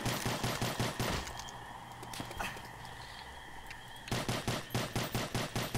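Rapid CZ submachine gun fire in Call of Duty: World at War custom zombies, loud rattling bursts at the start and end with a quieter stretch of game ambience between.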